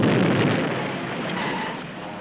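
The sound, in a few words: explosion in Sea Hunt TV episode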